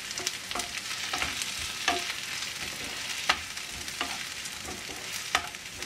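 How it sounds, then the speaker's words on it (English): Onion and ginger sizzle and fry in a pan for a chicken curry, with a steady crackling hiss punctuated by periodic scraping stirs of a utensil, fairly close and with no talking. "our onion is nearly cooked. We need to add our ginger now."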